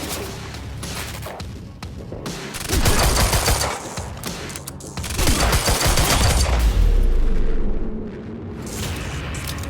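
Dense, heavy gunfire in the video game Quantum Break: bursts of rapid automatic shots and booming impacts roll on continuously and loudly, swelling in waves without a pause.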